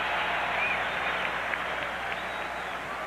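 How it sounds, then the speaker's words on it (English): Basketball arena crowd at a 1996-97 Sixers at Knicks NBA game reacting with a steady, dense wash of applause and cheering, loud and continuous throughout without clear talk on top. "And the crowd reacts"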